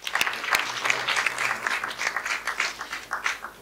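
Audience applause at a cybersecurity conference, steady clapping from a moderate crowd rising at the start and continuing evenly throughout, with a few sharp louder claps near the beginning.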